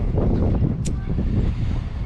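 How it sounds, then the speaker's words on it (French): Wind gusting across a harbour microphone while a sailboat is readied to be craned out of the water, a continuous low rumble and buffeting throughout, with a brief high whistle near the middle. "Il y a pas mal de vent, en fait."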